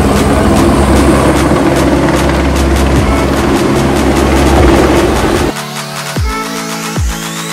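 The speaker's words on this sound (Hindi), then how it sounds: "ये कंबख्त हेलीकॉप्टर सुबह से शोर किया पड़ा है" A helicopter passes over Sonprayag on the Kedarnath trekking route, its loud, continuous rotor thumping and engine whine filling the air before the noise drops suddenly near the end.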